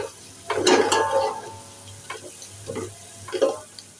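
Onions frying in a pan with green and red chili: a low background sizzle broken by several short bursts of scraping and stirring, close and fairly loud.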